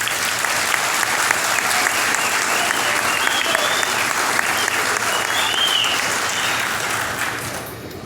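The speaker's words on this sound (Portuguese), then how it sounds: "Eu achei que ia começar sem aplauso, mas já gostei" Audience applause welcoming footballer Paulo Roberto Falcão onto the stage, a dense, steady wash of clapping from a large crowd that holds for several seconds before tapering off at the end.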